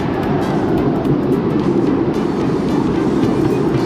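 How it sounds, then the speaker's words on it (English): Amusement park train at Knoebels rolling along its rails over water, a steady close rumble with faint clickety-clack running throughout, no talk. "The train is moving."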